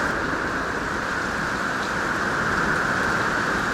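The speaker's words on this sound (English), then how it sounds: "Oh! Wow, it's really raining." A hurricane downpour pours down in a thick, unbroken roar of rain, loud and even from start to finish, with no voices.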